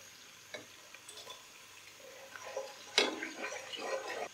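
Onions and raisins fry in a pan for chicken mandi rice, a low steady sizzle broken by scraping stirs, with a sharper clatter of the spoon near the middle, no talking.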